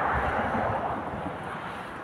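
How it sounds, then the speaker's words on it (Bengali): Cold wind blowing in from heaped snow along a Canadian street, a steady close buffeting rush of air against the microphone with no other sound. "এই এত বরফের থেকে একটা হাওয়া আসছে"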